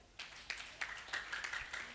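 Scattered audience clapping at a youth career-guidance camp, irregular claps close by and fairly quiet, without talk.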